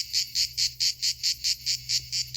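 Cicadas sing along a Camino de Santiago trail in a loud, close, rhythmic pulsing buzz, about four bursts per second, with no talk.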